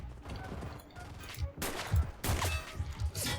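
Gunfire in the World War II shooter Enlisted comes as scattered bursts and single pops at varying distances, with heavier, louder volleys in the second half and no speech.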